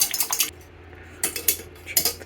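Metal utensil clinks and scrapes rhythmically against a container while stirring PC-TEA film developer into water, three bursts of quick clattering strokes separated by brief pauses, close and fairly loud.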